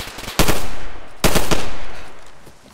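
Two loud, close gunshots from a DayZ firefight, the second about a second after the first, each with a long echoing decay.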